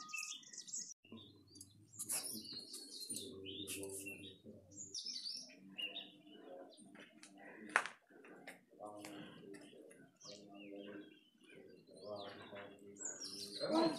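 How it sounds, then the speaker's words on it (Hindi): Small birds chirp and tweet in short bursts around a village temple in Uttarakhand, rising clear above a voice that talks almost the whole time. "आप यहाँ पे आवाज सुन सकते हैं चिड़ियाओं की, कितनी मधुर आवाज कानों में लग रही है"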